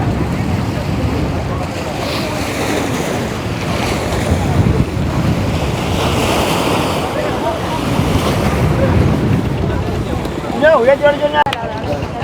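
Boat crossing the sea toward Eluvaitivu island off Jaffna, a loud continuous rush of wind and waves with engine and hull noise, and voices faintly under it.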